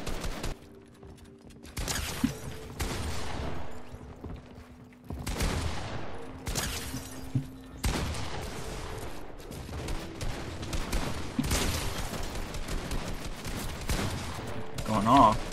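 Gunfire from the video game Fortnite, with repeated bursts of rapid shots and single cracks spread across a shooting match, loud and close, with brief pauses between volleys.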